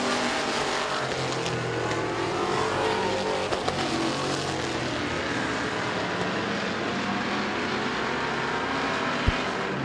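Race cars roaring around Midvale Speedway, a dense continuous engine drone at close range with rising and falling passes and a sharp knock near the end, no voices.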